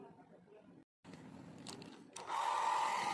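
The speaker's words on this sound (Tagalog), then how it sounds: "So i-blower din natin ito, blower ng i-blower ang mga pyesa." An electric blower dries wet circuit board parts from appliances soaked in a typhoon flood, giving a steady whooshing hum that rises to a louder, harsher roar partway through, close by with some background noise.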